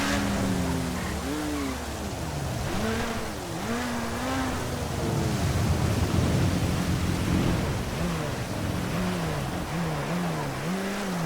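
Heavy rain roars as a steady wash in GTA V's Los Santos, with engine tones rising and falling while a vehicle is driven through the storm, and low rumbling throughout.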